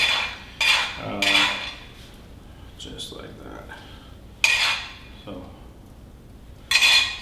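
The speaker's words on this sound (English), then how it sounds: "is going to be putting the Tasty Hot butter on the base" Tasty Hot butter is spread across a pizza base, several short scraping strokes of a utensil, close and spaced apart, with quieter gaps between them.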